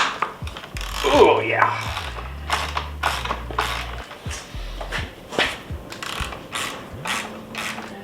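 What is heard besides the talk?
ratchet with 14mm Allen socket removing Honda CRF300L front axle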